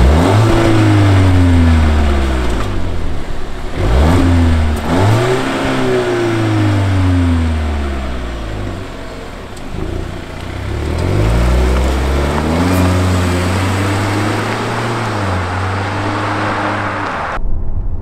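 A Volvo XC90 petrol engine with its active sound system switched off gives its stock note in Eco mode, revving up and down repeatedly in loud rising and falling sweeps, heard close with no talking.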